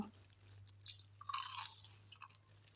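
Crunching bites of a crispy, freshly fried Thai snack bought at a village market, close and fairly quiet, with a burst of crisp crackling in the middle and a few smaller crunches around it.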